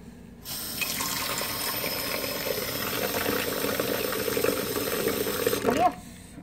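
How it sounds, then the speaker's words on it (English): Steady running water pours and splashes into a bowl with soap for several seconds, a continuous hissing flow that stops near the end. "put just some soap and put some water"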